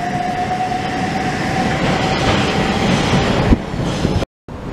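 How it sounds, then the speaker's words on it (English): A Southeastern High Speed Javelin train pulls out of Ashford International, a loud, close, steady rumble of wheels and motors with a faint whine and a brief knock near the end. "Off goes the Southeastern High Speed Javelin, bound for London St Pancras"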